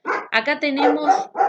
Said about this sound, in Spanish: perdonen el perro, chicos